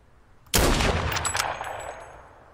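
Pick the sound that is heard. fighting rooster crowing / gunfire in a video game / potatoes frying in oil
gunfire in a video game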